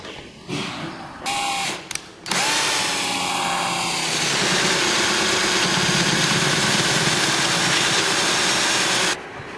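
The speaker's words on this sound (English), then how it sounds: "We are now ready to bore a hole for the auto closing hinges" A hinge boring machine drills a hole for auto closing hinges, starting with a few short bursts, then running as a steady loud whirring drone for several seconds before stopping abruptly.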